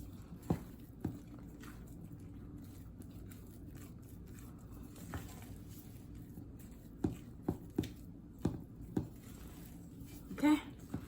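Egg-less banana bread batter being mixed in a bowl, with soft squishy stirring and a scattering of faint taps and scrapes against the bowl over a quiet background, a few louder knocks near the end.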